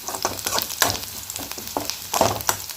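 Onions and curry leaves crackle and sizzle in a hot pan nearby, with scraping stirs and spitting pops scattered irregularly throughout.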